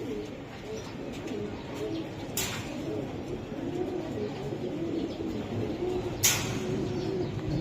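Racing giribaj pigeons coo steadily in a low, continuous murmur, close and moderately loud, with a couple of brief sharp noises cutting in.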